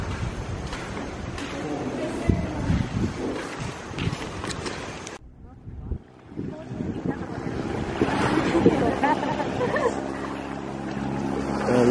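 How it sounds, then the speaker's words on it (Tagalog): Strong wind buffets the microphone throughout a boat ride leaving Boracay, with a roaring gusty rush and an engine and water rumble beneath. The wind drops briefly near the middle and then returns loud, and there is no clear talk. "Last boat ride namin pa uwi."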